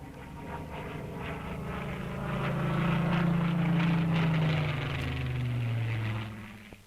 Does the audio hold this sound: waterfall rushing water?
no